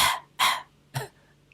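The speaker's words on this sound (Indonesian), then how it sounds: "kalau batuk angin" Three harsh, breathy coughs, a wind cough, come in an uneven rhythm, close and fairly loud, each short and dry with a throat-clearing rasp, and no talking.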